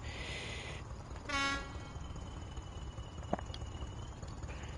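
BR Class 20 diesel locomotive hauling loaded limestone wagons in a train simulator game, a brief horn-like tonal blast near the start over a low, laboring engine rumble, then faint clanks.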